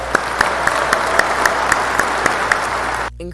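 A crowd applause sound effect plays during Pokémon gameplay commentary: steady, full clapping with evenly spaced sharper claps standing out, continuing for about three seconds before cutting off abruptly.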